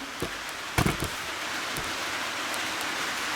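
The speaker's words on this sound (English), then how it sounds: "it's pouring rain outside" Heavy rain pouring outside, a steady hiss of drops heard from indoors, with a few brief knocks and clunks near the start standing out over the continuous downpour.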